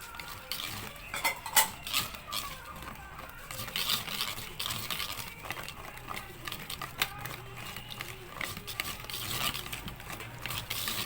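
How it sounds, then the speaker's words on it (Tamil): Condensed milk stirred by hand into eggless biscuit dough in a bowl, a run of soft scraping and clinking utensil sounds, close and fairly quiet. "நல்லா மிக்ஸ் பண்ணி விடுங்க."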